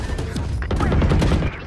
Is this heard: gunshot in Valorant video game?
yes